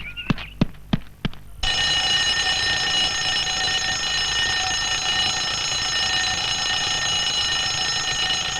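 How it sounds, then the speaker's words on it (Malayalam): An alarm clock rings in a comedy movie scene: a few sharp separate rings, then a loud continuous high-pitched bell that runs on steadily to the end. "ഇതെന്തിനാ ഇപ്പൊ അലാറം അടിക്കുന്നു?"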